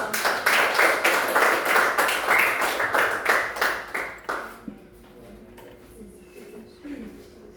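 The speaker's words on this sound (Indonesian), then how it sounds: "Kita aplaus untuk" Classroom applause for a group presentation: a small group claps together in a steady, rhythmic burst for about four seconds, close and lively, then fades into a quiet room.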